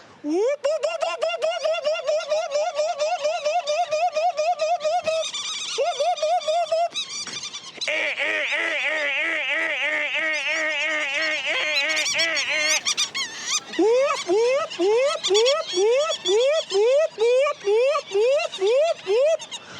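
A person imitates bird calls with loud, honking, goose-like whoops and rising squawks, repeated in quick rhythmic bursts with short pauses between.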